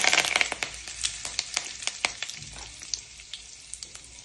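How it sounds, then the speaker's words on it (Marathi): Curry leaves hitting hot oil in a home kitchen pan crackle and sizzle loudly, with a rapid burst of sharp pops that thins out into scattered spits over a steady frying hiss. "आता आपण कढीपत्ता टाकणार आहे."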